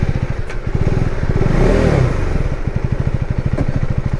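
A KTM Duke 390 motorcycle engine runs close and loud with a steady pulsing rumble, swelling briefly in revs midway before settling back, with no voices over it.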